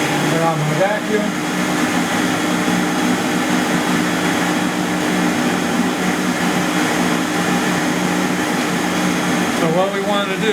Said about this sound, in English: on my vacuum.